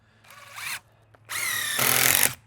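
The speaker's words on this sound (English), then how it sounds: "now I can drive a couple screws" A power drill drives screws into a garden shed frame: one short whirring burst, a brief pause, then a longer, louder run that revs up close by with no talk.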